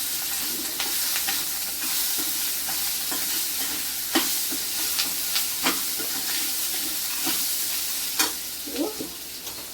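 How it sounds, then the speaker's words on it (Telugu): Grated raw mango fries with curry leaves in a hot pan for mango pulihora, a loud continuous sizzle and hiss up close with occasional scraping stirs of a spoon and no voices. "ఇప్పుడు మనం తురుము పెట్టుకున్న పచ్చి మామిడికాయ వేసుకుందాము కలుపుకుందాము"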